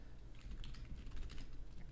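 Rapid keystrokes on a computer keyboard rattle quietly and steadily for the full two seconds, close to the mic over a low background hum.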